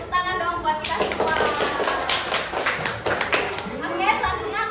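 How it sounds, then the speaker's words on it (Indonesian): Children clapping their hands together in a classroom, a dense burst of applause that starts after a moment and carries on steadily, with voices mixed in. "tepuk tangan dong buat kita semua"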